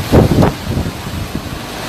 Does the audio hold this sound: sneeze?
no